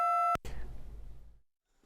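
A single loud, steady electronic censor beep used to bleep out a word on a call-in TV talk segment, cutting off abruptly and followed by a short burst of rumbling noise that fades to silence.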